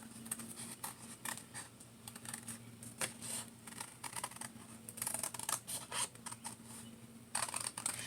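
Scissors cut paper around a drawing of a lizard for a craft project, with faint, close, irregular snipping and crisp paper rustles in a quiet room.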